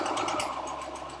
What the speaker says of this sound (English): Backstitch. And we'll just sew until we get to that notch.